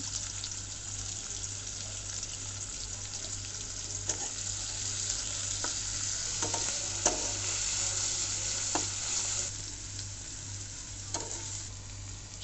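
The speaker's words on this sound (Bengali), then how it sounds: "তো এখন তেল দিয়ে নিচ্ছি পেঁয়াজ দিয়ে দিচ্ছি" Onions sizzle in hot oil in a pan for egg bhuna, with a continuous bright frying hiss broken by a few sharp stirring clicks, close and without talk.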